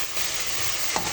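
Potatoes sizzle in hot spiced oil in a pan, a steady crackling hiss with a brief stirring scrape near the end, close and clear with no talk.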